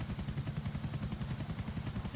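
A helicopter in GTA IV, its rotor chopping in a steady fast rhythm at low volume, heard alone without talk.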